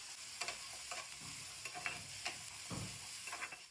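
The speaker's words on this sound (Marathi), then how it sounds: "अगदी फास्ट गॅसवरती फटाफट असं भाजून घ्यायचं" Onion, grated coconut and tomato roast in a pan over a high flame, a faint continuous sizzle broken by repeated scraping strokes of a spatula as the mixture is stirred.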